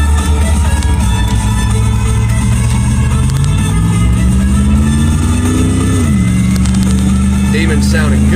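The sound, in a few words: Dodge Demon car engine revving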